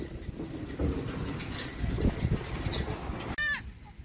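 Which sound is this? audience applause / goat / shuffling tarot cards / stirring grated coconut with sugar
goat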